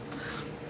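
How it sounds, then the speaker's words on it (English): A steady back-and-forth rasp of leopard wood being sanded on a small seesaw sanding board, faint and close with no voices. "I'm feeling that little seesaw sanding board you got going on"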